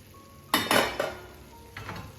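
Fried beef pieces for chilli beef go into a pan and are stirred, giving a few loud metallic clanks and scrapes of spoon on pan close up, then quieter scraping, with a soft background hiss.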